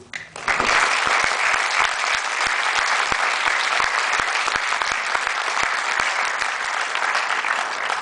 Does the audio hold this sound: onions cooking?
no